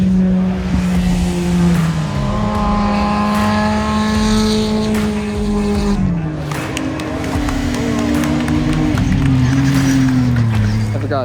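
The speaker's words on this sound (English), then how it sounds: "now it's time for the next bunch of cars to come up onto the stage" Rally cars on a WRC Rally Finland gravel stage, a loud engine note rising and falling through gear changes, a near car revving hard then passing, steady and continuous throughout.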